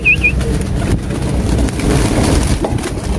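Pigeon sounds amid a busy outdoor setting with a loud continuous low rumble, a couple of brief high chirps at the start and scattered clatter throughout.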